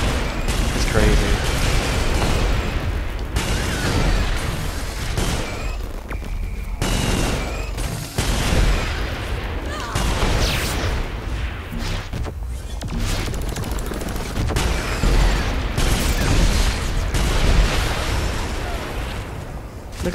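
Rapid bursts of automatic gunfire and explosions from guns in the video game Saints Row 4, dense and loud for the whole stretch, with a voice talking over the shooting.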